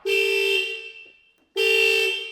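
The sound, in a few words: car alarm honking horn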